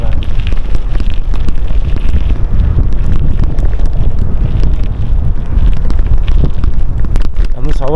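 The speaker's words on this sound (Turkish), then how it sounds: "Soğuk rüzgar esiyor." Cold wind during a bicycle ride on back roads out of Yeşilova village, a loud, continuous roar buffeting the microphone for the whole stretch, with no letup.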